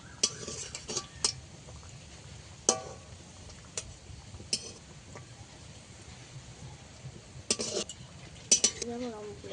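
Fried wheat-flour biscuits are lifted out of frying oil with a strainer, making a soft bubbling sizzle broken by sharp metal clinks and scrapes of the strainer against the pan at irregular intervals.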